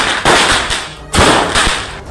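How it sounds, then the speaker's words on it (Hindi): Fireworks burst in a night celebration in Pune, sounding as loud, close crackling blasts and sharp pops in two rapid waves that fill the air. "पुणे में तो इतनी आतिशबाजी हुई कि आसमान में रोशनी छा गई।"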